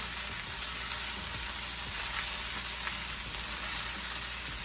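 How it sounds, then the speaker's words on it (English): Steady, close sizzling and crackling of rice frying in a pan, crisping at the bottom, continuous and even throughout with no talking. "Those crispy bits of the rice. It's frying up at the bottom."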